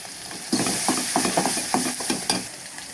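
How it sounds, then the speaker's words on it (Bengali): Onions and salt fry in a pan with spices for a hilsa fish head dish, stirred vigorously. Sizzling continues under repeated rhythmic scraping strokes, close and loud, with no talking. "ভালো করে নেড়ে চেড়ে পেঁয়াজটা হালকা একটু লাল হয়ে এলে আমি মশলা দেব।"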